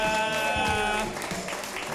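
An audience claps steadily for an improv performer at a live show, a brief burst of dense applause under music and some chatter.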